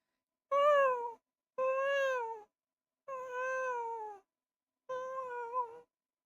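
A person imitates a cat, giving four drawn-out, wavering meows with short pauses between them, close and clear with no other talk.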